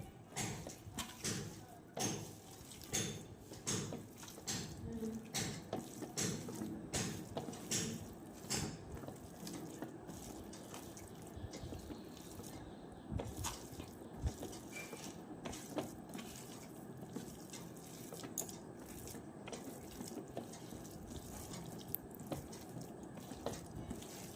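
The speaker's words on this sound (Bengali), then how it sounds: "এবার এই সব কিছু দিয়ে চিকেনটাকে ভালো করে মেখে নেব।" Hands squish and knead raw chicken pieces with turmeric, Kashmiri chilli powder and spices for a chicken snack, making steady wet, sticky mashing sounds close by with no talking.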